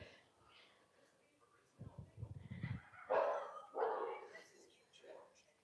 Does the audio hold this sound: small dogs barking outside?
yes